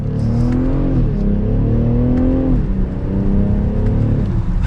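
A 2023 BMW X6 xDrive40i SUV accelerates up to speed, heard from the cabin as a loud, steady engine drone whose pitch climbs, drops at gear shifts and climbs again.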